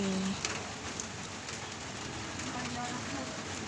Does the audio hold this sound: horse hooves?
no